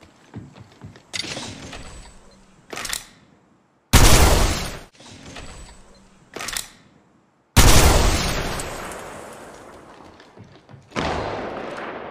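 Gunfire in the mobile battle royale game Apex Legends Mobile: loud, close bursts of automatic fire separated by mechanical reload clicks and thuds, with brief pauses between volleys.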